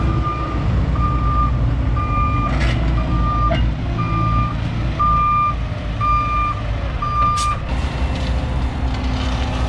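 Loud truck-and-transfer dump truck reversing on a park construction site while delivering base for a soccer field, its backup alarm beeping in an even repeating rhythm over a heavy diesel rumble, with occasional clanks.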